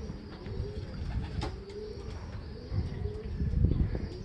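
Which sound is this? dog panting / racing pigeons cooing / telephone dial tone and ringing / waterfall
racing pigeons cooing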